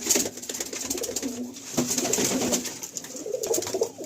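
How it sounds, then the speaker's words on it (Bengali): Malbai pigeons coo in a full loft, several birds overlapping in a continuous murmuring chorus close by, with wing flutters and scuffles throughout. "বাহ, বেশ দারুণ, মানে বেশ দারুণ পায়রা রয়েছে।"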